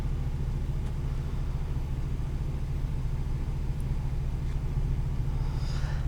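A 2018 Dodge Challenger T/A with an automatic transmission is on the move, its engine a deep, steady rumble droning low and constant from inside the car, with a few faint brief ticks on top and no speech.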